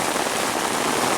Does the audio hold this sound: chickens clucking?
no